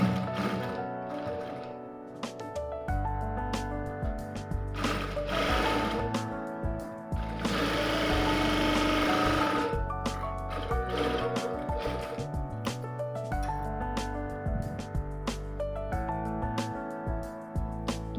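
Sewing machine stitching a lined blouse, running in long continuous whirring bursts with brief pauses between them, close and fairly steady.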